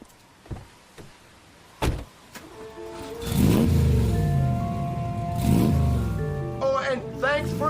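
Radio drama car effects: a few sharp door clunks and knocks, then an engine starts and runs with a rising and falling rumble, close and fairly loud, with a brief squeaky mechanical whine near the end.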